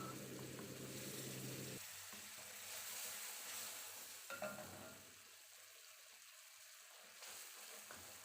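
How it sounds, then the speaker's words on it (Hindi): Sugar syrup is poured slowly into semolina cooking on a low flame for suji halwa, producing a soft hiss and sizzle that quiets partway through and then continues faintly with occasional small bubbling sounds. "और अब मैं इस शीरे को जो है वो आहिस्ता आहिस्ता करके सूजी में ऐड करूँगी।"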